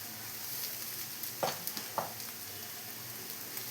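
Chopped tomato is sautéed in a pan, giving a steady bright sizzle with a couple of sharper stirring scrapes and no voices.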